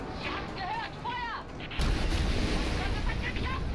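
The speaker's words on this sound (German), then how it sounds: "Wenn ich auf den Feuerball schieße, trifft die Explosion vielleicht den Heli." A shot into a fireball in Rise of the Tomb Raider sets off a sudden deep rumbling explosion partway through, following game voices and whistling tones, then a sustained roar of debris and fire.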